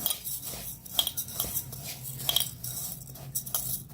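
Urad dal is stirred in a bowl with a spoon, giving rhythmic clinks and scrapes about twice a second, close and fairly soft, with no talking.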